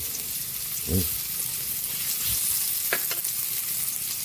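Chopped onion sizzles in hot oil with garlic in a pan for a Filipino dish, giving a steady loud frying hiss with occasional stirring scrapes and clinks.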